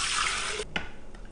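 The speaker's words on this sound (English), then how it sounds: "Water it." Water runs from a tap to soak macadamia nuts for homemade nut milk, a short close splashing pour that cuts off abruptly, followed by a few faint drips and small knocks.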